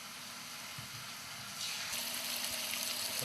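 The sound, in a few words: sauteing in olive oil in a pan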